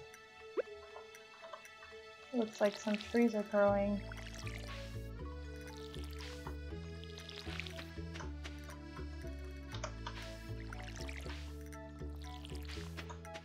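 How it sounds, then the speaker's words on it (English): Crops are watered in the farming video game Stardew Valley with soft splashing drips over looping background music, while a player talks casually. "Go ahead and water these."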